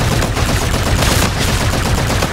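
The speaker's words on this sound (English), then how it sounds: "So we're going to put down some shots there, grab that kill." Loud, dense rapid gunfire from a weapon in Infinite Warfare multiplayer, a continuous burst of overlapping shots filling the whole stretch with no talking.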